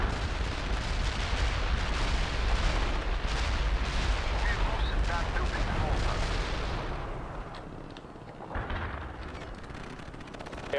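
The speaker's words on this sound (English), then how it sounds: "Some artillery on these houses." A dense artillery barrage in the World in Conflict video game pounds away as a continuous loud roar of overlapping blasts and rumbling impacts, easing slightly near the end as a voice speaks under it.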